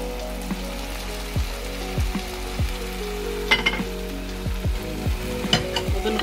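Garnishing added to hot peppered smoked goat meat sizzles in the pan, a steady close frying hiss with repeated soft thuds and scraping stir sounds, no talking.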